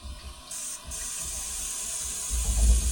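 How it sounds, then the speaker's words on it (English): Water rushes through household plumbing once the supply is turned back on after valve work: a steady hiss and spray that swells louder near the end, with no talking. "we should be able to just turn the water on."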